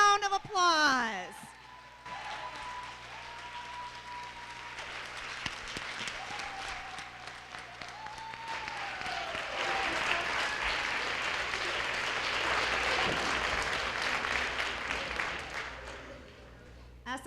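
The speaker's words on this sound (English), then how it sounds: "can we please give our hostess with the very mostest a huge round of applause?" An audience at a LUNAFEST film event breaks into applause for the hostess, a broad wash of clapping that swells and holds for several seconds, with a voice speaking briefly at the start and scattered cheers.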